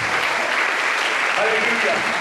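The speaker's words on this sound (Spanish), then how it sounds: "Un aplauso a Jesús" Congregation applause at a Spanish-language church service, a dense steady wash of clapping sustained throughout with faint voices mixed underneath.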